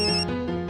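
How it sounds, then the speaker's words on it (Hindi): A mobile phone ringtone chimes briefly and clearly, a short melodic ring heard alone with no talk over it. "टप्पू का फोन?"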